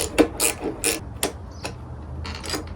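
Ratchet with a universal joint working stuck bolts on an old lawn mower, giving short bursts of sharp clicking in an uneven rhythm, close and alone.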